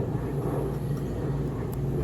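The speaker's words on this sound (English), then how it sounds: "Now I got an airplane flying over on its way to Orlando International Airport." An airplane passes overhead on approach to Orlando International Airport, a steady low broadband rumble that holds at an even, moderate level throughout with no voices.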